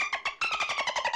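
A voice imitates a dolphin's cry in a cartoon, a rapid burst of high, chattering clicks and squeaks pulsing in quick, regular repetition, close and fairly loud.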